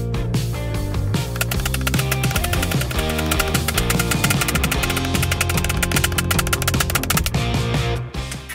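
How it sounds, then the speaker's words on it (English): A Japanese saw cuts dovetails in plywood with fast, rhythmic rasping strokes, close and continuous, over a low steady hum. "I chose to cut my dovetails with my Japanese saw."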